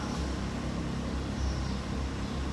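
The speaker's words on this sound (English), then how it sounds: "I hope you guys can't hear that car because it doesn't sound like it's going anytime soon." A car idles or runs steadily somewhere nearby outdoors, a continuous low engine drone with no break, fairly quiet and unchanging.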